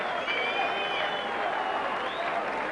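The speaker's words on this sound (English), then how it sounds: "Yes, applause for Taylor." Crowd applause fills a 1992 World Championship darts final for Taylor, a steady continuous wash of clapping from a large audience.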